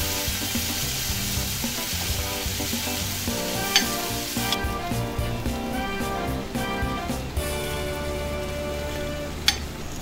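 Sausage sizzles on a cooking pit in a steady, dense frying crackle that runs unbroken throughout, with a few sharp clinks and scrapes, close and moderately loud, and no talking.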